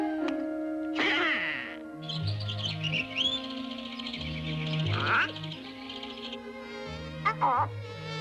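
Bright chirps and tweets pop up a few times over bouncy, cartoonish music with a stepping bass line.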